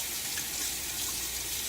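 A tap runs steadily into a sink as a razor is rinsed after a wet shave with a Gillette Fat Boy razor and Feather blade. Continuous close hiss of flowing water, with no speech.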